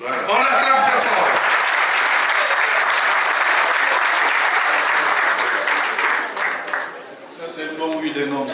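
Loud, sustained applause and cheering from the guests at a civil wedding ceremony, steady for about seven seconds before easing off, with voices rising over it near the end.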